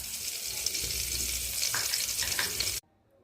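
Hot oil sizzles steadily in a pan on the stove, a continuous close hiss with faint scraping, cutting off abruptly near the end.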